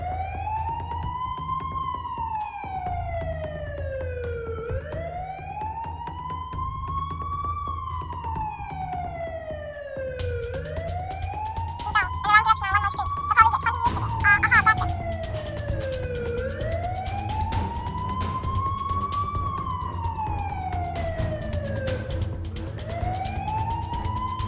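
A wailing emergency siren in a Minecraft game rises and falls in slow repeating sweeps, loud and steady throughout, with a brief burst of rapid yelping tones partway through.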